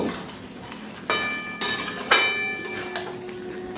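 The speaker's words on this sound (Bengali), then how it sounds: "এবারে আলুর সঙ্গেও এই মাংসটা আরও এক থেকে দুই মিনিট ভালো করে কষিয়ে নেব" Chicken pieces and pre-fried potatoes sizzle softly in a pan for chicken biryani, with several metallic clinks of a spatula or ladle against the pan ringing out over the frying.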